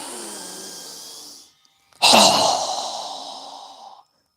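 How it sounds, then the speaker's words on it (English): Strong, forceful exhale during a yoga breathing exercise: one soft breath fades out, then after a short silence a loud, sharp, close whoosh of air pushed out that tails off over about two seconds. "Strong exhale."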